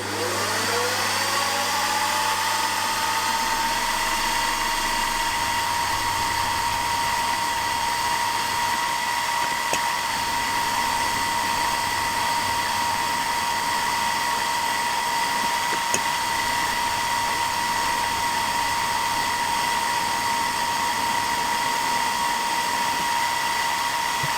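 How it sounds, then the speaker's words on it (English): A milling machine runs steadily, a constant high whine with tonal hum as a drill bit cuts through metal cylinder heads for a model opposed twin engine, with a couple of faint clicks along the way. "Well, having done all the plunge cuts, it's just now a matter of running the drill bit through."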